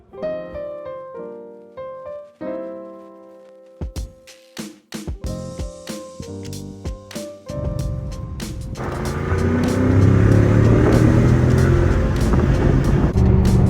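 Audi A6 4.2 V8 with a manual swap driving a mountain road near Georgetown, Colorado, first with music playing, then a steady loud engine and road roar building and holding near the microphone.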